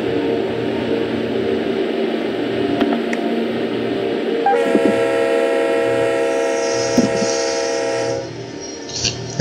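Freight train running in the Run 8 railroad simulator game, a steady rumbling engine drone joined midway by a long, loud multi-tone horn blast before settling back to the engine.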